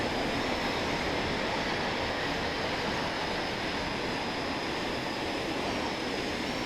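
Train passing close by in the Train Sim World 5 game on the Preston to Carlisle route, a loud, steady rumbling roar of wheels and carriages that stays constant throughout with no voices.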